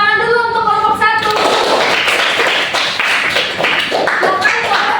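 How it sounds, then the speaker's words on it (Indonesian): A university microteaching class claps for a student group, a few seconds of dense, lively applause that starts right after a spoken line and continues on its own. "Tepuk tangan dulu untuk kelompok 1."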